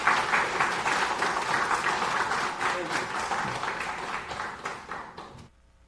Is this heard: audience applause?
yes